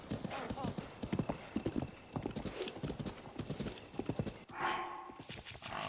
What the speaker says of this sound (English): this horse is going absolutely crazy right now